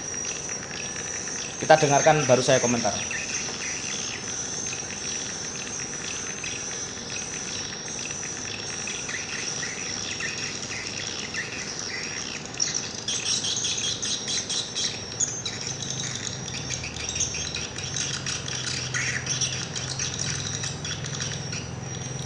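Recorded swiftlet call lure (the smallest-moan "ST" sound) played over a loudspeaker alongside another looping call track, a steady high insect-like chirring throughout, with someone speaking briefly near the start.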